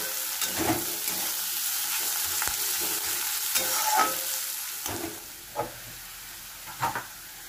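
Katla fish heads fry in a pan, giving a continuous sizzle under irregular stirring clatters and scrapes, with a few louder knocks toward the end and no talk.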